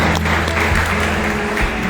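Church congregation applauding during a celebration of the 453rd anniversary of the Bible's Spanish translation; a short, continuous wash of clapping, fairly loud and unbroken.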